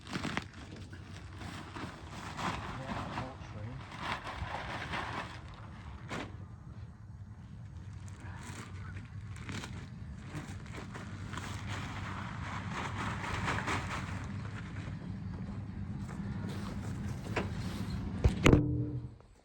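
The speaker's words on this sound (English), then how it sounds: "So I'll drive my skid steer around and just randomly place these bags." A skid steer loader drives around outdoors, its engine a steady low rumble at moderate distance with occasional clanks and creaks, closing with a louder clatter near the end.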